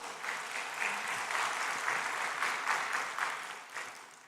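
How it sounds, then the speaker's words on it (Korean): A church congregation claps in a sustained burst of applause, a dense, even patter that swells and eases slightly without voices. "우리 하나님께 영광의 박수"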